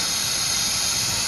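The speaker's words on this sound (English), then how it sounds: "It's time to spray this stuff down" Aerosol cleaner sprayed onto the engine parts of a Jeep Liberty 3.7 during rocker arm work, a short continuous close hiss.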